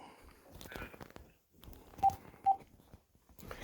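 Two short, loud telephone keypad dialing beeps sound about half a second apart in a quiet room, with brief talk and rustling before them.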